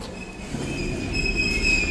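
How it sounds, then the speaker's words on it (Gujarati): An underground metro train rumbles in with a steady low roar and a high metallic squeal of wheels on rails, growing louder as it approaches. "ચલો અમારી ટ્રેન આવી ગઈ છે"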